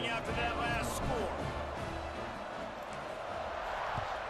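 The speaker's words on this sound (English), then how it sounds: "this crowd is buzzing after that last score." Stadium crowd noise in a college football video game, a steady loud roar of fans sustained throughout the game's broadcast audio.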